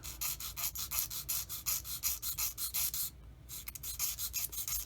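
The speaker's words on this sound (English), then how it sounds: "I use my 600 grit sanding stick" A 600 grit sanding stick rubs a plastic scale model part of a Trumpeter 1/35 Tiger I tank flush, in rapid, regular back-and-forth strokes with a brief pause midway. The scraping is close and crisp.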